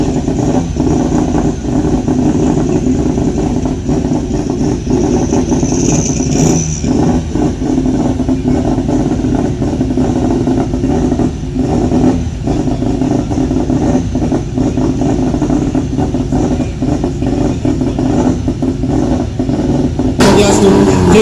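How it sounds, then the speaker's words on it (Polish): Race cars in a round of the Polish and Slovak hill climb championship at Korczyna accelerate and rev, giving a loud, continuous engine roar throughout with a sharp burst near the end. "rozpoczynamy prawdziwe emocje i prawdziwe ściganie w 13 rundzie górskich samochodowych mistrzostw Polski i mistrzostw Słowacji"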